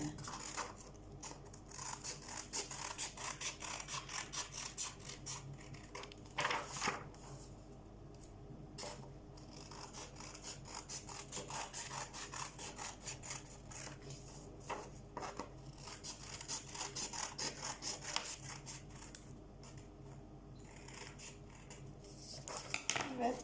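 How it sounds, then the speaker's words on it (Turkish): Scissors cutting a circle out of paper, a long run of quick crisp snips and rustles close up, with a child-friendly craft setting and someone talking quietly at points. "İlk önce bir daire çizdim ve kesiyorum dairemi."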